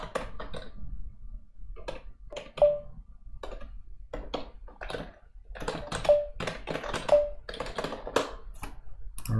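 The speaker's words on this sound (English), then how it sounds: "Just going to type it directly." Computer keyboard typed on directly during a coding contest, with irregular bursts of close, crisp key clicks and clacks that stop and start over several seconds, with no talking.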